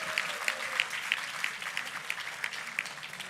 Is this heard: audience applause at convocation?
yes